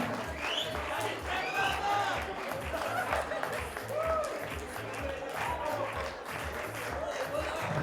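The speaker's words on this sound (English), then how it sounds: "A big round of applause for Fallon and Sylvester" A crowd claps and cheers in a lively, continuous wash of applause for a paper dancing competition winner, with voices calling out and a pulsing beat underneath.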